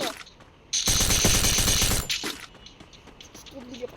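Gunfire in the video game Free Fire, a headshot kill: a loud, dense burst of rapid shots lasting over a second, then quieter game ambience with some speech-like sounds.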